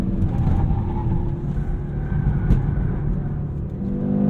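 A 2022 Audi RS3 five-cylinder engine drones steadily and loudly from inside the car while driving, a constant road and engine hum with no talking over it.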